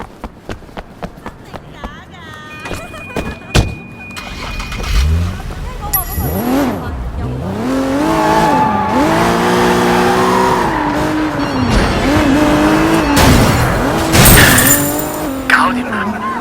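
A car in the video game Sleeping Dogs revs and accelerates across a street, its engine roaring up close with tire squeals and skidding, while voices talk over the driving.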